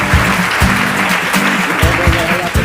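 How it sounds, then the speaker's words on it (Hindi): Loud studio audience applause on a Hindi quiz show set, a dense sustained wash of clapping with music and voices woven through it. "जोरदार तालियां"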